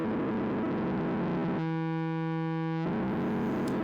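A Threetom modular synth's low-pass filter pushed with high gain into a rich, buzzing sustained tone that appears suddenly from a noisy wash, holds for about a second, then cuts off.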